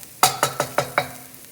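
Garlic sizzling in a pan as it is stirred, five quick scraping strokes in a steady rhythm over a soft background hiss, close and alone.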